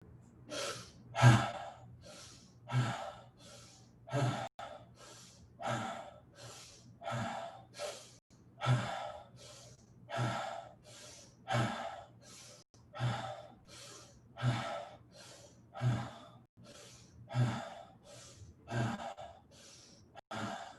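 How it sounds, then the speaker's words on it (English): A person does a guided breathing exercise, taking fast, deep breaths through the nose in an even rhythm, with close, forceful inhales and exhales repeating about every second. "Now let's breathe a little bit faster."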